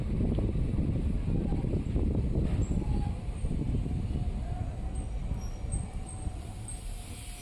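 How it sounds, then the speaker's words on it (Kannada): A passenger train pulls into Bennehalli railway station. A constant loud rumble of wheels and rolling stock carries wind noise throughout the recording. "ನಮ್ಮ ಟ್ರೈನು 7 ಗಂಟೆ 18 ನಿಮಿಷಕ್ಕೆ ಬೆಣ್ಣೆಹಳ್ಳಿ ರೈಲ್ವೆ ಸ್ಟೇಷನ್ಗೆ ಎಂಟ್ರಿ"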